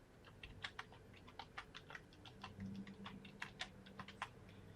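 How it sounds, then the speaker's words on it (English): A library card number is typed on a computer keyboard, giving a steady run of close, light key clicks over a low background hum, with no speech. "then you just type in your library card number"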